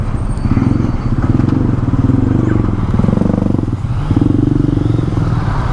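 A Yamaha XSR900 motorcycle rides over a bumpy road in Manila. Its engine gives a loud, steady, close rumble throughout, with rattling and clattering from the rough surface.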